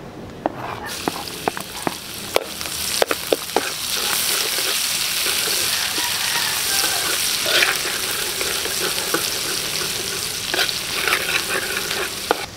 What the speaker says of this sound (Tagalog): Gigisa na po tayo ng bawang, sibuyas, saka sili.